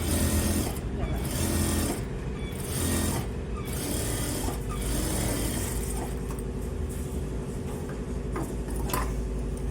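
A sewing machine stitches a plain blouse in a steady, continuous mechanical drone with periodic pulses. A person's voice can be heard over it.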